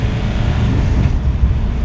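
An Ashok Leyland truck accelerates in third gear, its engine producing a heavy, steady low rumble with a faint higher whine, close and unbroken throughout.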